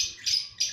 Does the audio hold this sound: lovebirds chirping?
yes